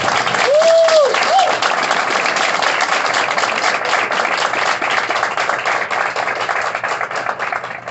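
Wedding guests applaud a newly married couple right after the ceremony, a dense, steady wash of clapping from a crowd, with a brief whistle-like tone near the start.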